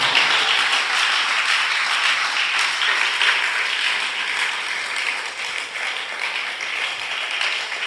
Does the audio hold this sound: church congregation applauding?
yes